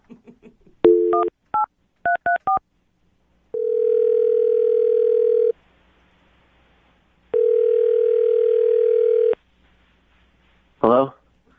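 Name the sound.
telephone dialing and ringing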